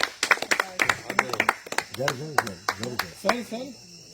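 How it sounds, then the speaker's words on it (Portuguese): A church congregation claps during a service, sharp irregular claps from several hands mixed with voices talking and calling out over them, close and fairly loud. "Aplaudam o Senhor e aplaudam pela vida deles também."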